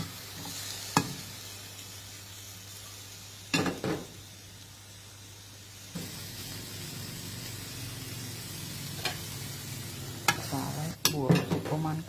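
Eggs frying in a hot pan with salt, stirred and gathered with a utensil: a steady low sizzle runs throughout, broken by a few sharp scrapes and clinks of the spatula against the pan, with no talking.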